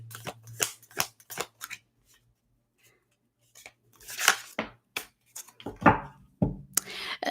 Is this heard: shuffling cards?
yes